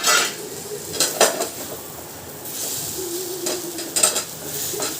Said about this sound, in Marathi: याला एकदा पलटी करायचंय आपल्याला।